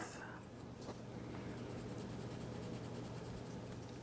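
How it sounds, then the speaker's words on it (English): Pencil crayon drawing and coloring on paper, with soft scratchy strokes in a continuous close texture under a low steady hum, quiet and with no voices. "Listening to the sound of the pencil crayon"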